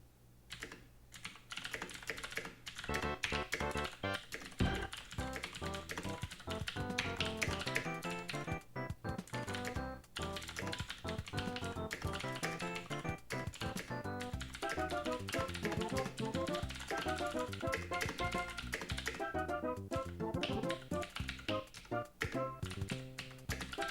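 Fast, dense clatter of a computer keyboard being typed on during a speedrun stream, continuous for over twenty seconds, with game music and sounds running underneath and no talking.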